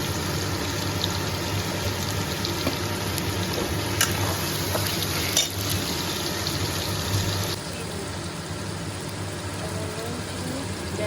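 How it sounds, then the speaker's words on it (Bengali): Spice paste with salt, powder and a little sugar sizzling and being stirred in oil in a pan for stuffed pointed gourd with prawns; a steady broadband frying hiss runs throughout with faint scraping, slightly quieter toward the end. "লবণ পড়বে গুঁড়ো মিষ্টি আর ভালোভাবে কষে দিতে হবে মশলাটা"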